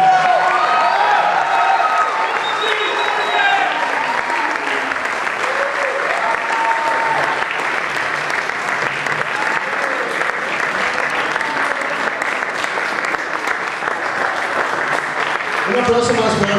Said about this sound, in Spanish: Un aplauso más fuerte a esta invitada,